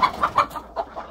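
Chickens cluck repeatedly and close by in a Thai backyard garden where ducks and chickens are raised together, a run of short, loud clucks in quick succession.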